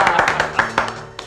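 A small group of people clapping at a party, sharp uneven claps close by in a quick, irregular rhythm for about a second.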